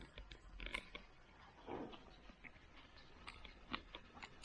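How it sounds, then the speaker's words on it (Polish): Close, crunchy chewing of a small fried insect, with irregular crisp bites and crackles over a quiet background. "Co to jest świerszcz? Chrupiący świerszcz."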